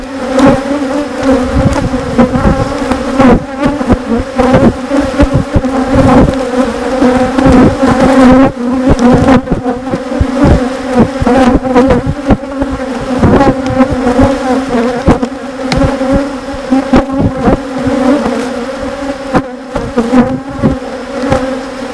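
Honeybees buzzing at an open beehive during an inspection, a dense, loud, continuous drone of many bees close by with no pauses.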